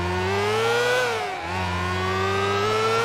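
Motorcycle engine revving in GTA 4, a steady loud mid-pitched drone whose pitch climbs, dips briefly around the middle and then rises again, continuous throughout with no talking.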